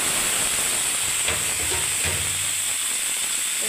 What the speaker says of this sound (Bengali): আমি কুঁদরি আলু পেঁয়াজ দিলাম